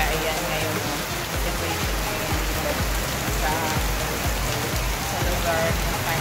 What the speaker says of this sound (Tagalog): keep safe po tayo kasi sobrang maulan na ngayon, lalo na dito sa Central Luzon